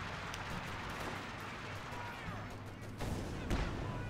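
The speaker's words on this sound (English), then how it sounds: "let's watch the bombardment." Artillery bombardment rumbles in Company of Heroes 2, a dense continuous roar of distant shelling with two sharper, louder blasts near the end.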